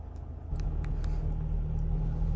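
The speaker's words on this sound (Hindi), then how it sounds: "बार बार मैं कह सकता हूँ कि हाँ ट्रैफिक है" Road traffic on narrow roads in Nainital, a low rumbling engine drone that steps up sharply partway through as a vehicle idles or pulls close, with faint clicks above it.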